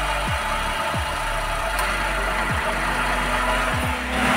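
A Toyota Vios engine with a newly replaced pulley assembly idles steadily and close by, a low continuous rumble broken by a few brief dips and thumps.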